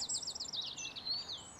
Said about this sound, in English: you get the sound of the birds